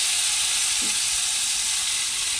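Fish pieces fry in hot oil with a loud, continuous hissing sizzle, close and even for the whole stretch, with no talking.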